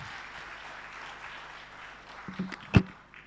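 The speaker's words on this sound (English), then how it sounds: "Please give Josephine a big round of applause" An event audience gives a brief round of applause, a soft, distant patter of clapping that builds toward the end and finishes with a louder knock or thump.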